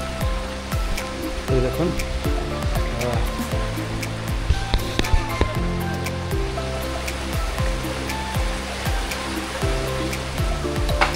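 Bamni waterfall in Purulia pours down in a steady, dense rush of falling water that fills the whole clip, with a voice briefly speaking nearby.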